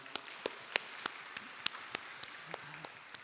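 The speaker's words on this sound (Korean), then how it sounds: "우리 하나님께 감사와 영광의 박수 올려드리겠습니다" Scattered, separate claps from a church congregation at a 39th-anniversary joint worship service, about a dozen sharp hand claps spread over a few seconds, fairly faint and somewhat distant.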